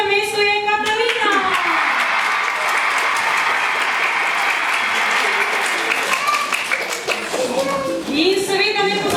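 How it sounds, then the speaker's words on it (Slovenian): An audience at a children's theatre play applauds rhythmic gymnasts with steady, dense clapping that fills the room, while voices talk over it near the start and end. "Prosim, velik aplavz za naše najboljše tekmovalke."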